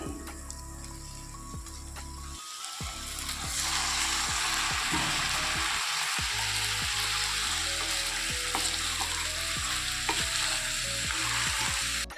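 A kilogram of washed chicken sizzles and fries steadily in a pan for green chicken gravy while a utensil stirs and scrapes with repeated clanks, loud and close, with no talking.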